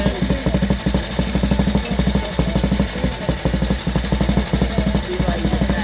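A 1930 Benelli 175 motorcycle engine runs with a loud, fast, even thumping beat that stays steady throughout, close by.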